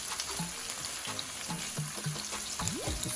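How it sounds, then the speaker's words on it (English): Seasoning for ackee and saltfish sautéing in a pan, a soft steady sizzle and frying crackle with faint scrapes of stirring, no voices. "we'll go ahead and have this saute for a little bit"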